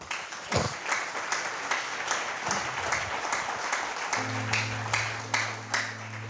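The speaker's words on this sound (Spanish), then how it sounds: "Denle un aplauso al Señor." A church congregation claps during a sermon, a moderately quiet, continuous patter with recurring swells. A steady low sustained tone, like a keyboard note, joins partway through and continues under the clapping.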